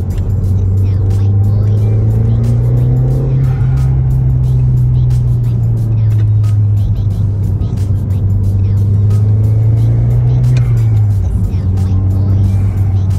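Audi TT 8N interior drive: a steady low engine drone with a shift in pitch midway and slight acceleration, continuous and close, with intermittent ticks and road noise.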